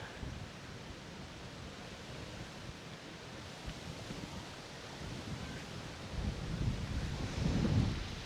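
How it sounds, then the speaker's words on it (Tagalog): Strong wind sweeps across an open picnic site at Sitio Matabok in Tanza, Cavite, buffeting the microphone with a constant rough roar that swells louder toward the end. "Lakas ng hangin, no?"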